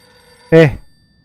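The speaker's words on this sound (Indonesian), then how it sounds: "Ada telepon ini ya, diangkat apa enggak?" A telephone rings once inside the horror video game Silent Hill f, a short bright tonal burst with stacked harmonics lasting about a third of a second, loud and clear over a quiet low background hum.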